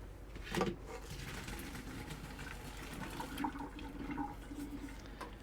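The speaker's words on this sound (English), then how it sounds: "And then our tapioca pearls, we'll drain those out. in the sink." Water pours from a faucet into a kitchen sink as cooked tapioca pearls are drained, a steady close rush with light splashes and gurgles that swell a few times.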